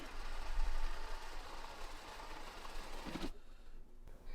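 An InstaRobo L1 robot vacuum cleaner driving back to its charging dock, giving a steady faint motor whir that cuts off abruptly near the end.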